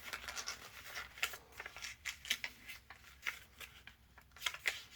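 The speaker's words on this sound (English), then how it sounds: "Repeat the same fold for this side. Fold straight to the center crease." Paper being folded and pressed flat while making a paper airplane, with crisp crinkles and sharp creasing swipes arriving in irregular bursts, close and fairly quiet, with no talking.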